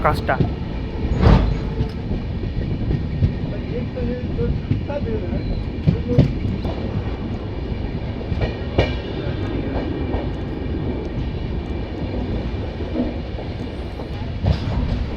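Kolkata–Radhikapur Express rolling into Raiganj station, a steady close rumble of wheels and carriages with scattered clanks and rattles throughout, a voice talking over it.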